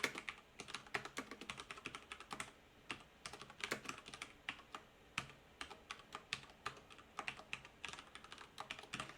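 Typing on a computer keyboard, with rapid, uneven clusters of key clicks close by at a quiet, steady level, with no talking.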